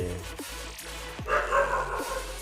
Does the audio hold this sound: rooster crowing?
no